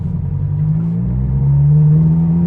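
A Ferrari 430 said to make 777 hp, driving in automatic mode, gives a deep, loud engine drone from inside the car that climbs steadily in pitch as it pulls, no voices.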